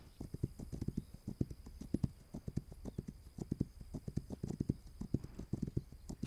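Horse hooves clip-clop in the video game This Land Is My Land, a quick steady patter of hoofbeats, faint and even, with no talk over it.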